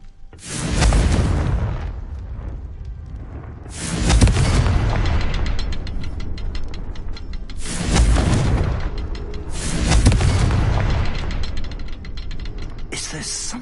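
Booming Confringo spell blasts in the game Hogwarts Legacy, four heavy rumbling explosions spaced a few seconds apart with crackling debris between them, loud and close.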